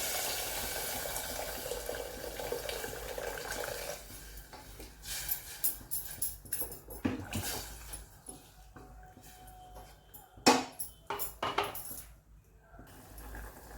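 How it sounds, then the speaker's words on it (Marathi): Hot water poured into a pot of fried cowpeas and masala, a soft rushing pour followed by splashing, clinks and bubbling of the liquid against the metal vessel, fairly quiet and close. "गरम पाणी घालत आहे"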